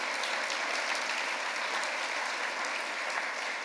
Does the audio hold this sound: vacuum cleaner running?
no